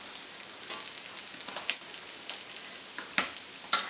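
Bread slices for capirotada toast in hot oil in a pan, giving a steady close sizzle and crackle with scattered sharp pops and spits throughout.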